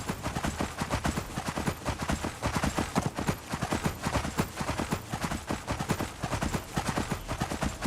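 Rapid, steady hoofbeats of a galloping horse in modded Skyrim pound on without pause, loud and close, with a slightly synthetic, game-like clatter.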